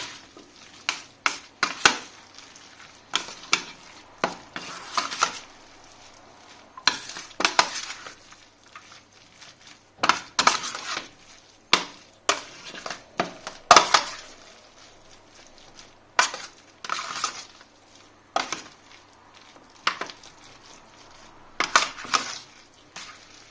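A spoon stirs risotto seasoned with ras el hanout in a pan, making short, repeated scraping and clacking strokes in irregular bursts, close and fairly quiet.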